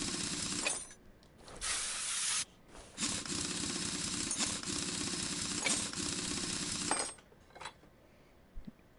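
Mechanical clanks, hisses and rattles as a brake caliper is unbolted and pulled off a car in a mechanic video game, with a few loud bursts running for several seconds before quieting near the end.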